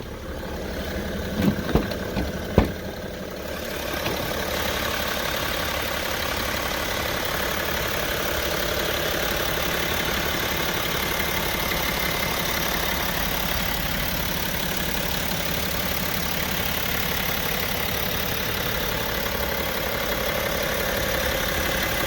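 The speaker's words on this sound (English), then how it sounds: "let's go ahead and open the hood and give you a listen to the engine." 2013 BMW X5 35d diesel engine idling with the hood open, a steady, even drone that settles in after a few brief knocks at the start and holds at a constant level throughout.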